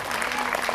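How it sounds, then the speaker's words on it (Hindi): Audience applause welcoming a guest onto the stage at a Tanti community mahayagya gathering in Amari, a steady, dense burst of clapping from a crowd, fairly close and sustained through the short moment. "जैसे माला डाले आप भी ताली बजाएंगे स्वागत में"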